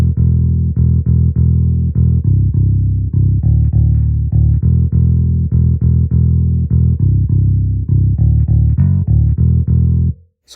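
Second synth bass pattern for an afrobeat beat made in FL Studio, a steady run of short punchy bass notes in a bouncing rhythm, loud and alone, stopping abruptly near the end.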